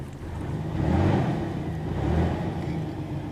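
Old carbureted V6 in a Pontiac Firebird revving, a low, rough engine rumble that swells and eases twice, close by and with a slight fuel leak.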